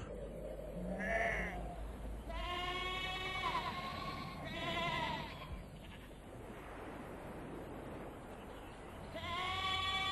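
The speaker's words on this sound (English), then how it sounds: "the wild goats even manage to eat mastic shrubs and thorns" Wild goats on Crete bleat several times, with wavering cries at intervals, some overlapping, fairly close over a constant background wash.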